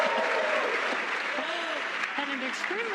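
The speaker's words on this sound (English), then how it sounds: "an extremely excited crowd here in Hawthorne" A crowd at SpaceX Hawthorne applauds and cheers excitedly during a rocket launch, a steady wash of clapping and whoops under a commentator's voice.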